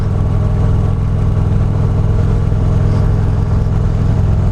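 A Harley-Davidson Street Glide motorcycle engine drones steadily while riding, a loud, continuous low rumble with wind noise and no break across the stretch.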